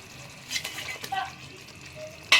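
Two fish go into hot oil in a pan, bringing soft sizzling with a few clanks of pan and utensil and a sharp clatter at the end.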